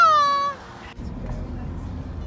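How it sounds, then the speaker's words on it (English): A single cat's meow, close and clear, rising then falling in pitch over about half a second, followed by quiet rustling background noise. "Move Kitty out of my picture"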